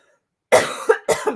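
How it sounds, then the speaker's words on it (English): Someone clears their throat three times in quick succession, close and fairly loud, with no talking. "I'm clearing my throat"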